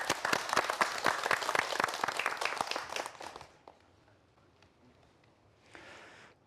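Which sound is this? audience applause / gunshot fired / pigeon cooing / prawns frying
audience applause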